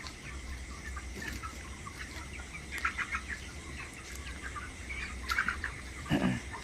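Chickens in a poultry farm shed with feeders and drinkers cluck softly and intermittently over a low background hum, with a few louder calls toward the end.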